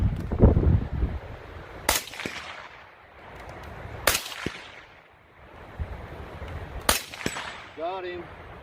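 Rifle shots ring out at steel targets on an outdoor range, three sharp cracks spaced a couple of seconds apart, with wind noise and a faint voice between them.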